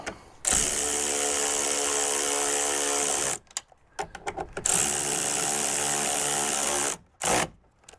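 A power driver tightens screws on the side mirror of a 2015-2018 Toyota RAV4: two sustained buzzing runs with a burst of short stuttering pulses between them, then a final quick zip.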